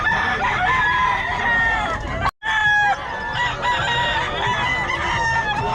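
Chickens cluck and squawk continuously while a rooster crows loudly nearby at a poultry sale in Bocaue, with a brief cut to silence midway.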